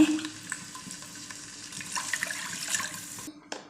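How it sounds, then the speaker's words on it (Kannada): Water pours steadily into a pot of three cups of rice for chicken masala ghee rice, six cups in all: a continuous close rushing splash, fairly quiet, with no voices over it. "ಈಗ ನಾನು ಇದಕ್ಕೆ ಆರು ಲೋಟ ನೀರು ಹಾಕ್ತಿದ್ದೀನಿ"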